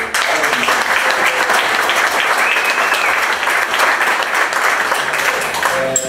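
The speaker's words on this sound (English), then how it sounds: "a round of applause for" Audience applause at a Rotary club meeting following an award presentation, a steady, dense clapping from a room full of people that holds strong for about six seconds before tapering slightly at the end.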